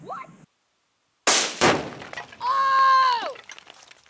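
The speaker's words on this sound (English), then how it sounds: "It broke the glass for your GoPro!" Glass cover of a GoPro breaking from an exploding target: a sharp loud crack and burst followed by debris, then a sustained whining tone that bends downward, after an earlier brief voice and a moment of silence.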